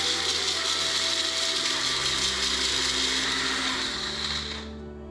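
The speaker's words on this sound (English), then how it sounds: "just gonna grind it and shake it a little bit until it's a nice fine powder" Dehydrated garlic scapes are ground into fine powder in a small electric grinder, a steady loud whirring that runs continuously and cuts off near the end.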